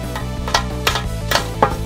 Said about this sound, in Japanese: これはスーパーボールの音だ。